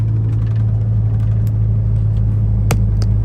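A semi-truck engine rumbles steadily and loudly while driving, a constant deep drone with a few faint clicks and ticks over it.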